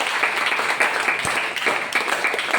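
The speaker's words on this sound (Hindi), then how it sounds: "आप लोग जोरदार तालियां बजाइए" An audience at a workshop gathering in Mirzapur bursts into loud, dense applause, many hands clapping together continuously from start to finish.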